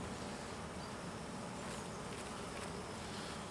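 Honeybees in an opened hive during a swarm-control split give a steady, dense buzz that holds at an even level throughout, close and loud, with no voices.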